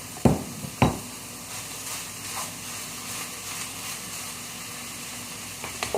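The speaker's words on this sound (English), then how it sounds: "We're stirring." Vegetables fry in a pan under steady stirring, a continuous close sizzle broken early by two sharp knocks of a utensil against the pan.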